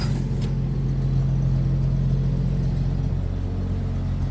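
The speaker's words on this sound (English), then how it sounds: "it has the 235 engine. And this one really purrs nice" A 1954 Chevy truck with its 235 engine idling, a steady, smooth low rumble with an even hum, close and constant throughout.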